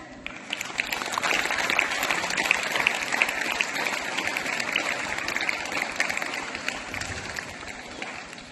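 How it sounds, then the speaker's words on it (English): An audience at an Independence Day school celebration claps for children, a steady dense burst of applause from a sizable crowd, moderately loud and continuous. "let us applaud the children with our loud claps."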